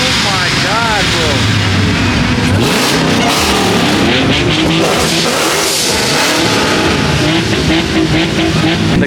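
A BMW F80 M3 with a ProCharger supercharger revs hard at a loud street car gathering, engine roar rising and falling close by with crowd noise and voices talking over it.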